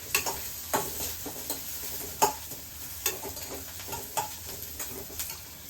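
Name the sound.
onions sautéing in pan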